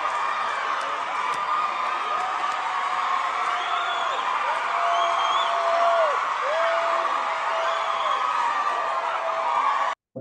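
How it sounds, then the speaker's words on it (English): A church crowd at an evening mass cheers and whoops continuously, with voices rising in long, sweeping calls above a dense, excited roar that cuts off abruptly at the end. "there's a lot of cheering and whooping going on in the church"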